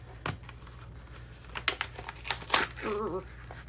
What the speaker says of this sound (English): I'm gonna do this off screen so you don't see me messing with scissors in ways that scissors should not be used.